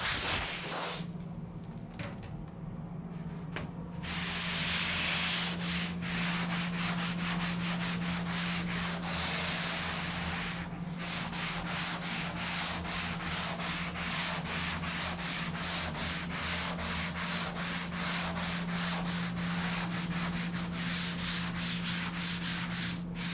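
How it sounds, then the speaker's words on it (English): A flexible sanding tool works a surfboard deck in a shaping bay, giving a steady continuous abrasive rubbing with rapid stroke-like pulses throughout, loud and close, with a low hum beneath and no talking. "So this is that flexible sanding tool again that starts to take the shape of the deck, hits the highs and leaves the lows."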